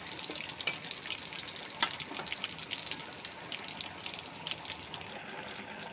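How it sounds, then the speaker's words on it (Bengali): Onion and garlic fry in a pan for a dried-fish curry, giving a steady, fairly quiet sizzle with a crackling hiss and one sharp pop. There is no talk. "পেঁয়াজ রসুন ভেজে নিচ্ছি"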